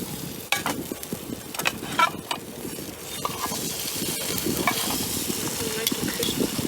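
Trout frying over a campfire on a canoe camping trip in the Ozarks, a steady close sizzle with scattered pops and crackles that gradually grows denser and louder.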